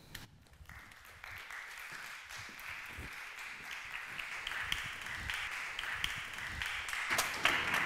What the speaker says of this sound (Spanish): a Ana Ferraz, a Pablo Tirado y a Joao Paiva, con un fuerte aplauso.